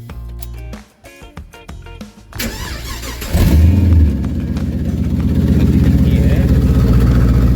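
Holden Statesman V8 engine with the exhaust undone, cranking and firing up into a loud, raw, rumbling idle, preceded by some knocking and a brief voice.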